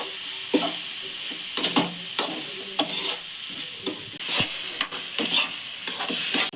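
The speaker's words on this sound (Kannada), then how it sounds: "ಇವಾಗ ಅದಕ್ಕೆ ಸ್ವಲ್ಪನೇ ಬೆಲ್ಲದ ಪಾಕ ಹಾಕ್ಕೊಂಡು ಈ ರೀತಿ ಮಿಕ್ಸ್ ಮಾಡ್ಕೊತಾ ಇರಬೇಕು." Dry fruits being stirred into a little jaggery syrup in a hot pan for ladoo, with repeated scraping, stirring strokes over a steady sizzle, close and moderately loud, no talking.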